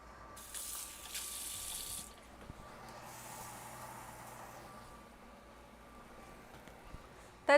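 Water hits a hot pan while a cheesesteak cooks, giving two bursts of hissing sizzle, the first brief and sharp, the second longer and softer, over a quiet kitchen background.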